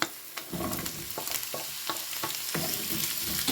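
Prawns and zucchini sizzle in a hot pan, with a steady crackle broken by repeated scraping stirs at close range and no talking.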